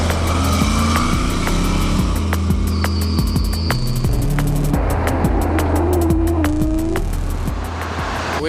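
Off-road trucks at full throttle and hard braking on an airport runway, with loud, continuous engine roar, rising and falling revs, and tire squeal near the end.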